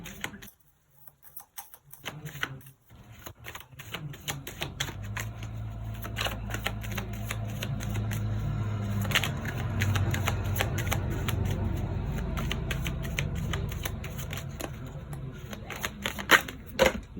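A deck of tarot cards being shuffled by hand, a long run of crisp rapid riffling and flicking that comes close and steady, with a brief murmured voice near the start.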